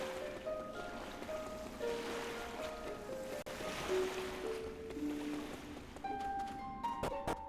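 Gentle waves washing on a beach at Rainbow Cove in Dragon Quest 7: Reimagined, a soft steady surf wash under light melodic music tones, no voices.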